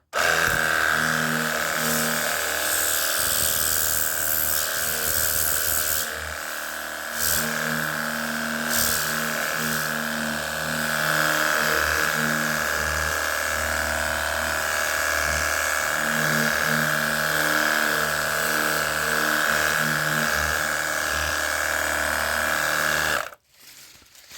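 A high-pressure car washer sprays water at a grimy surface, a constant loud hissing roar with a steady motor drone underneath, running continuously for over twenty seconds before cutting off abruptly.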